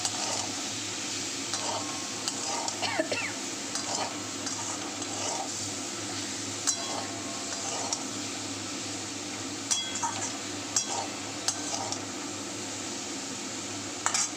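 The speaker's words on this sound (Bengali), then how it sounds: "একটুখানি ভালো করে ভেজে নেবো মাছের সাথে" Prawns fried in a pan with other fish, with soft steady sizzling under frequent clinks and scrapes of a utensil stirring against the pan, close and continuous throughout.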